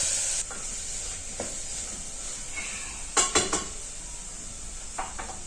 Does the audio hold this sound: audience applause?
no